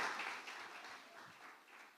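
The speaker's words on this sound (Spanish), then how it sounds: "Dale un aplauso al Señor de la gloria." Congregation applauding at a church service, a steady wash of many hands clapping that stays fairly faint and distant and slowly fades across the stretch.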